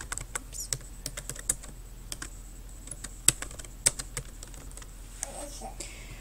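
Keys clatter on a computer keyboard as someone types a notebook entry, irregular bursts of close, crisp taps with brief pauses and a faint hum beneath.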